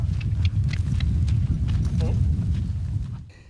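A quarter horse's hooves clip-clop steadily during a riding demonstration on a ranch, close and rhythmic, with other ambient sounds around it.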